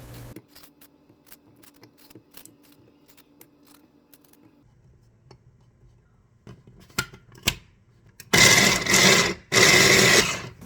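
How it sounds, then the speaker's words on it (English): An electric food chopper blitzes onion and red bell pepper in two loud close bursts near the end, after quieter clicks and handling of the appliance. "I'm chopping the onion and bell pepper in my chopper until fine."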